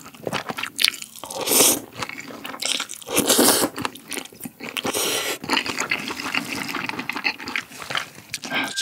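Someone eats cream buldak fire noodles with kielbasa sausage up close, with wet slurps, chewing and occasional crunchy bites in irregular bursts, no talking.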